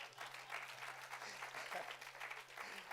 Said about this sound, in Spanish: Dele ese aplauso a Cristo.